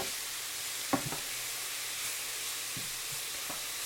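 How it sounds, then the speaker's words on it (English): Sausage, peppers and onions sauté in olive oil with a little beef juice in a pan, as filling for calzones. A soft, steady sizzle and hiss continues throughout, with a couple of faint utensil taps. "And now I'm just sauteing them in olive oil and a little bit of beef juice."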